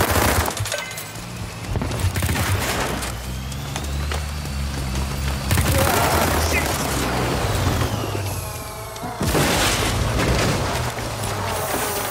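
Artillery and gunfire in the World War 3 video game: loud, continuous battlefield booms and crackling shots, with bursts around the middle and near the end, mixed with voice lines and other game noise.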